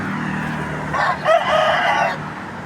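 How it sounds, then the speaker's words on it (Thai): A rooster crows loudly and clearly once at close range, a drawn-out call over a steady background of farmyard noise with softer chicken sounds. "ออกไก่แล้วเนาะ"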